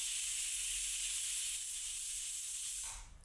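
Steam hisses loudly and steadily from a pressure cooker with jackfruit cooking inside, a continuous broad release that holds for about three seconds before easing off at the end.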